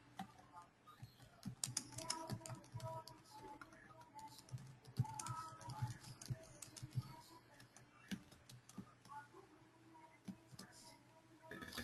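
Computer keyboard typing in a quiet room during a Java programming lesson, with irregular soft key clicks scattered through the clip under a man's ongoing speech.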